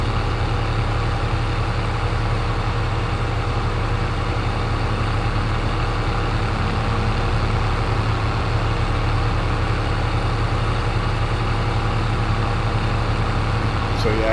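Tractor engine in Farming Simulator 22 running steadily while driving, a loud continuous low diesel drone with a fixed hum, unchanging for the whole stretch.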